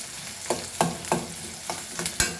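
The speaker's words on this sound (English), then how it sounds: "Fry this nicely." Goan doyi bhaji greens fry in a pan under a constant soft sizzle, with a spoon stirring and scraping in roughly regular strokes, close by and without voices.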